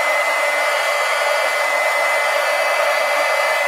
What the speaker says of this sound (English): Once dry, heat gun.